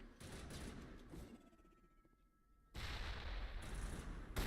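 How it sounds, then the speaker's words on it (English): Video game gunfire from Mass Effect comes in dense bursts of shots at the start, fades through a quieter gap, then returns loud and sustained to the end. "that was Garrus who I was shooting in the back"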